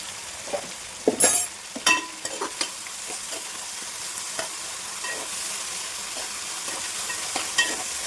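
Ginger garlic paste fries in a pan with coriander and mint for chicken biryani, a steady sizzle broken by sharp scraping stirs of a spoon, close and loud with no voices.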